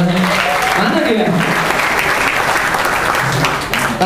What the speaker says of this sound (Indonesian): tepuk tangan dong buat istri gue